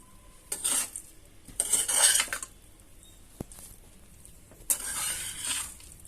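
Tamarind rice being stirred and mixed in a metal pot, with bursts of spoon scraping and clattering separated by quiet gaps and one sharp tap.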